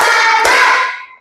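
One sharp clap from a group of students in a classroom, clapping together on a teacher's count, set against a ringing tonal backdrop that fades away within a second.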